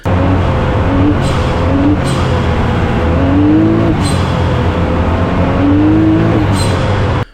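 A Can-Am Maverick X3 Turbo RR fitted with an RPM blow off valve roars loud and constant, revs rising and falling repeatedly, with a short hissing burst each time the throttle lifts.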